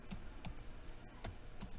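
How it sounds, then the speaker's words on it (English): Computer keyboard being typed on, a handful of soft, quiet key clicks at an uneven pace with a faint background hiss. "I'm going to type in Desmos"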